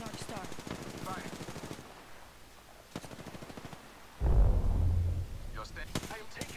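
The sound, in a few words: gunfire in a Legends battle royale video game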